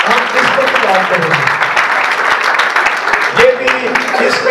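A church congregation at an Urdu sermon bursts into loud, dense, sustained applause, steady throughout with a few voices murmuring underneath.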